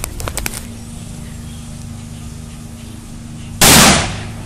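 An explosive charge blows up a tacky collectible outdoors in a yard: a few sharp crackling pops at the start, a quiet pause, then one loud, close blast that rings out and fades.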